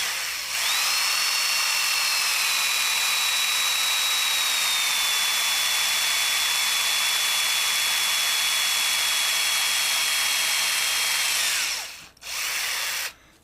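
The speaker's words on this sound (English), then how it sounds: "And I'm ready to drill my back cover." A drill whines steadily at a high pitch as it bores through the plastic back cover of a Sony W5 or W7 device for about eleven seconds, then cuts off abruptly with a brief final burst.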